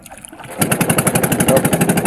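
A fishing boat's engine starts up and settles into a fast, steady, loud chugging pulse heard close by.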